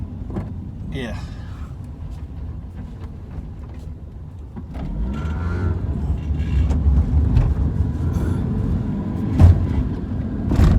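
A modified Honda car with barely working brakes limps along the road back to the shop, engine and road rumble steady and close, swelling louder midway, with a few clunks and rattles.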